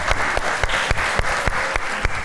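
A live audience applauds steadily at a talk show, a dense patter of many hands clapping with sharper individual claps standing out, fairly loud and with no talk over it.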